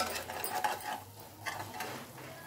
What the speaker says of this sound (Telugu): ఇవి వేసుకొని బాగా ఇట్లా కలిపేసుకుందాం.